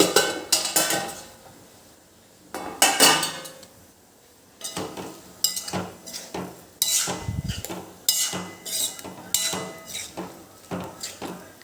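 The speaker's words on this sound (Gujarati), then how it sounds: "ગેસની ફ્લેમ એકદમ સ્લો કરીને ને ધીમા તાપે ઉપર ઢાંકણ ઢાંકીને થવા દેવાનું છે" A metal lid goes onto a pot of stuffed parval cooking on a slow flame, giving scattered bursts of close metallic clanks and knocks separated by short quiet gaps, with no voices.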